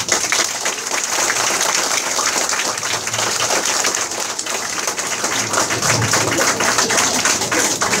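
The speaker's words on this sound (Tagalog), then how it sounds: "simpleng palakpak na lang." An audience at a training session in an office claps in steady, dense applause that holds at an even level from start to finish.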